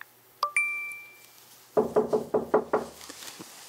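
Knocking on a house door, a quick run of about six firm raps following a brief high chime, close and clear with no talking.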